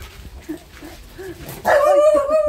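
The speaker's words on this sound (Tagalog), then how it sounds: "Binabantayan ako ng aso." A dog barks a few times nearby, with a sharp loud yelp near the end, over faint outdoor background noise.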